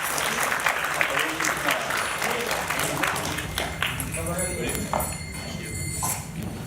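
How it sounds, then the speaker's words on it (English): Audience applause at Bhaktivedanta Manor, a Hare Krishna temple, a sustained dense patter of clapping from a gathered crowd with voices mixed in throughout. "Let's give a big round of applause."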